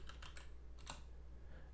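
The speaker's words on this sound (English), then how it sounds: "What I'm going to do is type CD for change directory." Command being typed on a Mac computer keyboard: a quick run of soft clicking keystrokes in small bursts, close and quiet over a low steady hum.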